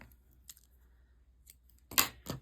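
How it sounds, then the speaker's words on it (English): Scissors snip through knitting yarn at close range: faint handling, then one crisp cut and a softer follow-up sound in a quiet room. "now I'm going to cut my yarn"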